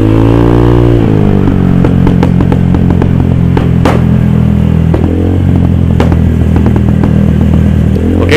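A Honda Vario 150 scooter with a tuned aftermarket ECU being revved hard, loud close engine roar rising and falling with repeated sharp backfire pops and crackles scattered throughout.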